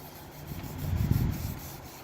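A rag works gel stain along the grain of a wooden table being refurbished, giving a soft, steady rubbing swish that swells in the middle and fades, close and alone.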